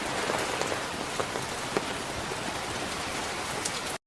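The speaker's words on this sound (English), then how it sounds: "So if I play the rain, let me know if you can hear it" Steady rainfall pattering on a surface, a dense even hiss with scattered droplet ticks, played back as a continuous recording for about four seconds before cutting off abruptly.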